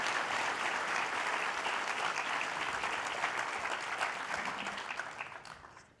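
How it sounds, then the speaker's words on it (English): Audience applause for the panelists after a first panel discussion at a business opportunities fair, a dense steady round of clapping from a sizeable crowd that holds for several seconds and then thins and fades at the end. "may I request the audience to give a round of applause to our dear panelists for our first panel"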